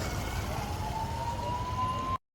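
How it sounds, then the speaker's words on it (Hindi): A civil defence siren wails during a city-wide blackout in Patna, holding a loud, steady tone that rises slightly in pitch over continuous background noise and then cuts off abruptly. "पूरे पटना में ब्लैक आउट है और सायरन बज रहा है इस वक्त।"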